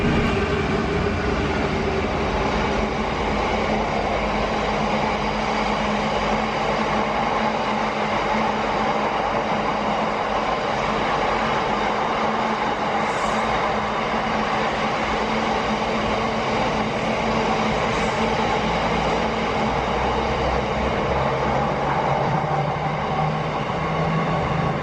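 A freight train rumbles steadily and loudly past at Kettering for about twenty-five seconds, a continuous grinding roar of wagons on rails with faint squeals and no talking.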